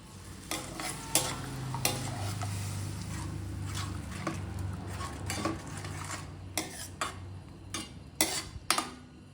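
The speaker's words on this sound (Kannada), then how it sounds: "ಪುಳಿಯೋಗರೆ ಗೊಜ್ಜನ್ನ ಲೋ ಫ್ಲೇಮಲ್ಲಿ ಇಟ್ಕೊಂಡು ಮಾಡಿ" Puliyogare tamarind paste cooks on a low flame in a pan, with a soft, steady sizzle and bubbling broken by repeated sharp clinks and scrapes of a spoon stirring against the metal.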